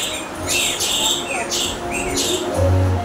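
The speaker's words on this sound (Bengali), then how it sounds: "ওই শোনো, পায়রা কি সুন্দর গাচ্ছে।" A pigeon coos low in the background while other birds chirp and tweet repeatedly over a steady outdoor hum at dawn.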